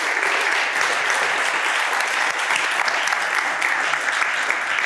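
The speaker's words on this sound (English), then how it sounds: "We will take a huge applause to the panelists" An audience at a conference symposium applauds panelists with steady, dense clapping that holds at an even level for the whole stretch, with no voices standing out.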